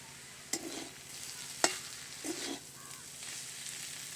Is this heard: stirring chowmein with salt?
yes